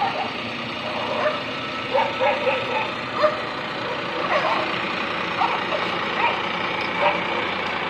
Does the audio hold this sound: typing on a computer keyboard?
no